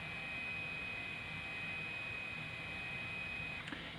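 A TwoUp 3D printer's Z axis motor drives the carriage down after a 10 mm move, giving a steady high whine over a continuous hum that runs evenly throughout without pauses.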